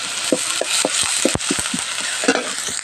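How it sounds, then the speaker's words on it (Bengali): Onion, garlic and ginger frying together in hot oil in a heated pan, giving a steady bright sizzle with a run of short clattering stirs and scrapes spread through it, close by and with no one speaking. "আর এবার এটা একটু ভাজা ভাজা করে নেব।"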